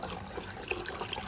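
Hibiscus juice, known as zobo or sobolo, runs through a cheesecloth sieve in a home kitchen, a steady soft trickle and splash of liquid throughout, with no talking.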